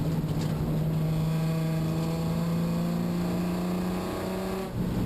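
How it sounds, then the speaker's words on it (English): A Nissan 240SX race car engine running on only five of its six cylinders drones steadily at constant pitch, sounding rough and uneven, loud and close throughout, then dips briefly near the end. "That is the sound of our engine on only 5 cylinders instead of all 6."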